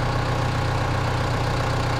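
A tractor engine idles with a steady, low, throbbing chug, close and continuous, with no other sounds over it.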